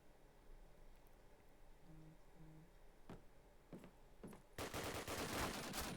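Machine gun fire erupts in a Call of Duty United Offensive multiplayer match: a few isolated distant shots first, then a dense loud burst of rapid automatic gunfire at the end, with no talk over it.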